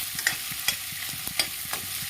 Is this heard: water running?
no